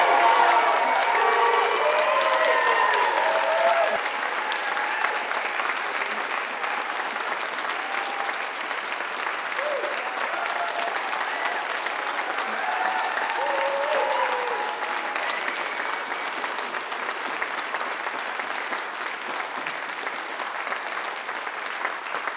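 An audience applauds graduates at a ceremony with sustained, dense clapping that carries on for over twenty seconds in a large hall, steady and loud throughout.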